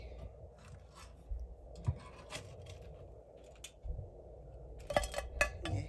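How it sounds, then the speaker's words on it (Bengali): Fried mung pitha soaked in sugar syrup are lifted onto a plate, giving soft scraping and light metal-on-dish clinks. Small taps come at intervals, with a cluster of sharper clinks near the end, all close by. "এই যে দেখুন এখন আমি একটা প্লেটে নিয়ে নিচ্ছি।"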